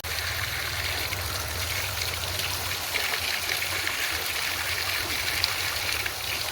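Water flowing steadily from a spring outlet in Lele village, Nepal, a close, continuous trickling and splashing stream with no voices.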